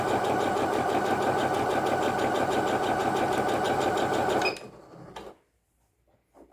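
A Singer HD6805 sewing machine stitches fabric at high tension in a fast, even, loud mechanical whir that stops abruptly, followed by a brief lower hum and quiet handling.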